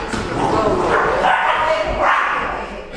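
A livestock guardian dog puppy barks and yips excitedly in short bursts, close by, with voices talking over it.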